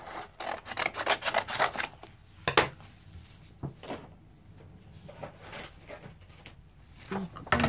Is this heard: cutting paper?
yes